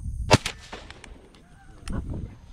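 Shotgun fired during a teal duck hunt, one sharp loud blast with a short echo, a second weaker report soon after, and faint rustling outdoors afterward.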